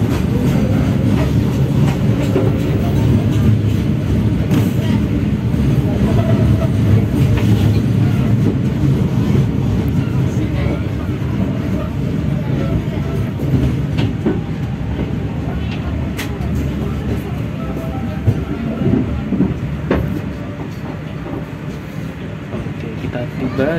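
KA Banyubiru passenger train pulling into Semarang Tawang station on track 1, a continuous loud rumble of wheels and carriages with steady clickety-clack, slowly easing in level over the run.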